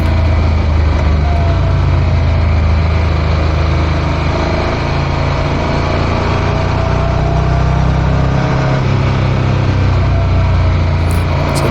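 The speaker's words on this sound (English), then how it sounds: "they do a good job of picking up the engine sound as long as you can keep it out of the wind" A loud, constant motorcycle engine drone with deep low rumble and wind buffeting, running steadily without pause for the whole stretch, riding Iron Mountain Road during the Sturgis Rally.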